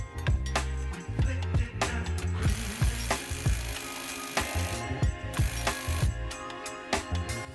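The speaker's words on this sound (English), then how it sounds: "I'm gonna put my normal ratchet on it." A hand ratchet tightens an engine mount bolt on an Astra VXR during a Vibratechnics mount install, giving rapid repeated clicking strokes in short bursts, loud and close, with no talk.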